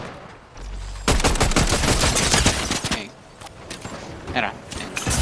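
Sniper fire in a Fortnite match, with a sudden sharp shot followed by a burst of rapid gunfire and clattering impacts, then quieter game sounds and a few further shots.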